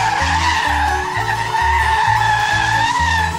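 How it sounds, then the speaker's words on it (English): An off-road vehicle spins donuts on the sand at Little Sahara, its engine bouncing on the rev limiter in a loud, close, rapid stutter while high tire skidding squeals over it continuously. "Oh, he does them donuts like a pro."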